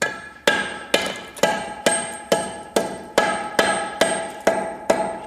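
Hammer chipping out the web of a soft concrete block, about a dozen sharp, evenly spaced blows close by, each strike ringing briefly and fading before the next, with no talking.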